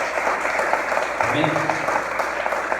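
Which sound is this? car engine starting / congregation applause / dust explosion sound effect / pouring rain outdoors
congregation applause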